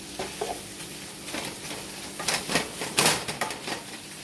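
Ground beef browning in a pan with a dab of butter, a low sizzle with spatula scrapes and stirring clatter, close but moderate in level, no voices.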